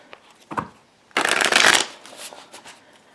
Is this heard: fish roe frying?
no